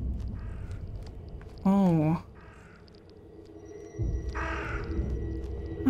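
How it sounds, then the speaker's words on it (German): A crow in The Sinking City gives two harsh caws, the first loud and close, the second shorter, with a brief spoken exclamation and quiet ambient background. "Ah, ein Vogel."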